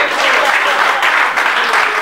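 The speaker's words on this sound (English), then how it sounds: "Clap for her." Loud, dense applause from an audience at a comedy night fills the whole moment, a thick continuous roar of clapping hands applauding a man's wife, with faint voices mixed in.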